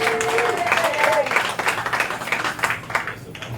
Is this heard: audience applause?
yes